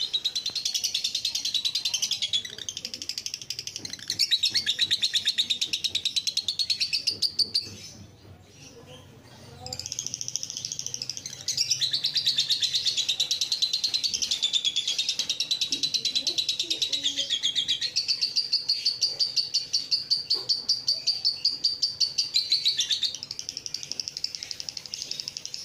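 A male lovebird chirps and sings almost nonstop in rapid, high trilling bursts, close and fairly loud, with a brief quieter pause midway before the song resumes.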